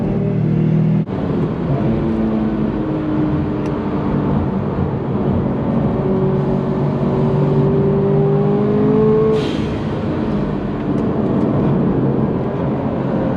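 A Subaru car accelerating on a race track at a supercar meet, loud steady engine drone heard from inside with the pitch climbing through gears and a brief shift break, continuous and close throughout.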